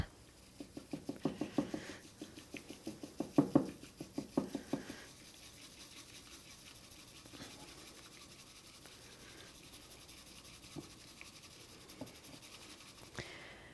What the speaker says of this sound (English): And you're going to whisk it.